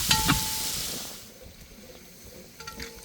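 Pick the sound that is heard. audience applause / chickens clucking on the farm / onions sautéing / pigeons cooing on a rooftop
onions sautéing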